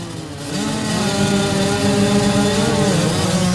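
Dirt bike engines rev together at a race start line, a loud sustained multi-engine drone building after a brief quieter moment and holding steady.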